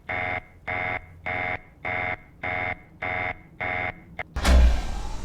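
A synthetic alarm in the video game Terminal 13 beeps in a steady repeating pattern, seven even pulses, then cuts off into a loud burst of noise.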